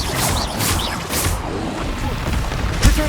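A Confringo fire spell exploding in Hogwarts Legacy gameplay, several booming bursts and crashes amid loud combat noise, with a heavy thud near the end.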